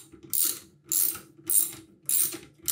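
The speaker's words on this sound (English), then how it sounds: "Get our wrench." A ratcheting wrench tightening a bolt on a mechanical build, four short rhythmic bursts of rapid clicking separated by brief pauses, close and clear.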